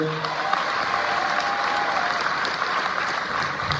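An audience claps for bank staff from UBA at a gathering, a dense, even round of applause that carries steadily throughout at moderate loudness, with no talk over it.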